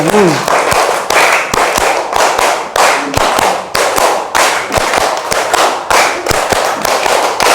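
A classroom group claps together in counted patterns, sharp loud bursts of hand claps grouped in short rhythmic sets separated by brief pauses, with a voice calling the counts between them.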